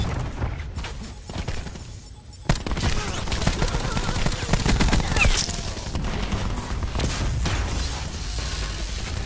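Semi-automatic gunfire in Black Ops 4 rattles in a dense, nearly continuous stream of rapid shots, loud and close, surging after a brief lull, with game effects and faint voices mixed underneath.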